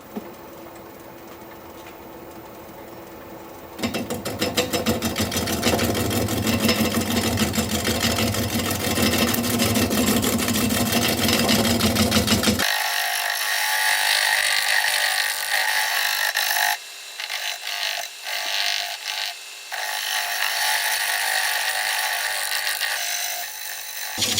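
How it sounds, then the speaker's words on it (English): A wood lathe at about 378 RPM spins a large ponderosa pine bowl blank while a 5/8 inch bowl gouge cuts. The loud, continuous rumbling whir with rough scraping shifts in tone partway through. "So 378 RPM, 5/8 inch bowl gouge, mask and face shield on."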